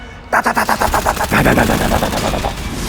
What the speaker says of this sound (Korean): 기관총 소리가 막 요란하게 울렸어.